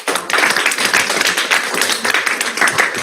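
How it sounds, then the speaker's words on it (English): An audience at a school board of education meeting claps in a dense, sustained round of applause that fills the room for the whole stretch, loud and close. "Let's get that round of applause."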